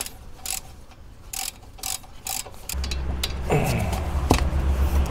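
Wrench work on a brake caliper nut on a Peugeot Rifter GT during a brake pad change, giving close metallic ratcheting and clicking with a few sharp clanks and a steady low mechanical hum in the background.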